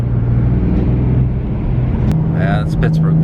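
2018 BMW M3 CS with a dual-clutch gearbox, in city traffic: a loud, close engine drone from inside the cabin, followed by a few brief popping exhaust burbles near the end, with people talking over it.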